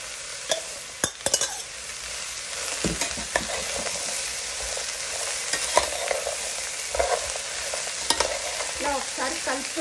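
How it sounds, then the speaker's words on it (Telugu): Pieces of bottle gourd (sorakaya) sizzle and fry steadily in a pan, with a constant crackling hiss broken by sharp clinks and scrapes as a spoon stirs them, and no one speaking. "ఆనపకాయ ముక్కలను వేసుకోవాలండి"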